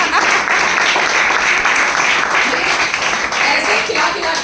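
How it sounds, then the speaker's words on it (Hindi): An audience at a food influencer event gives loud, continuous applause, a dense wash of many hands clapping at steady volume throughout, with cheering voices mixed in. "इनके लिए जोरदार तालियां"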